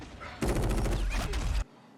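Rapid bursts of automatic gunfire from a Stranger Things episode, a loud dense fusillade lasting just over a second before cutting off sharply to near silence.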